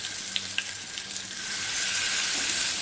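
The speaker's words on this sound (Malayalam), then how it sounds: "നമുക്കിനി മീൻ വറക്കാം." Marinated squid sizzles steadily in hot coconut oil for a Kerala-style roast; the crackle stays close and continuous, with a few sharper pops early on and the frying growing slightly louder toward the end.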